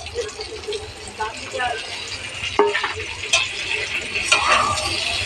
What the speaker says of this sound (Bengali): এই দিয়ে আলুগুলোকে আবার ভাজতে দিয়েছি।